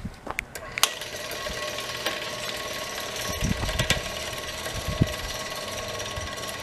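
An SL600AC chain-driven sliding gate opener runs with a tightened chain, giving a continuous mechanical whir with rattling, clicking and knocking, heard close up.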